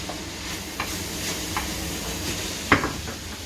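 Cooked meat for a pasta sauce is stirred in a pan with a spoon, giving soft scraping and faint sizzling under a quiet background, with one sharper clack of the utensil near the end.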